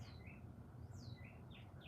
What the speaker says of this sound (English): Oh, them birds.